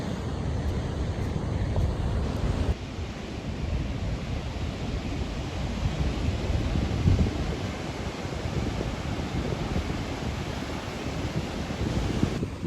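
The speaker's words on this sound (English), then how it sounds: "Look how big those waves are today." Big ocean waves break at Manhattan Beach in a steady, loud roar of surf, mixed with wind buffeting the microphone for the whole stretch, with no voices.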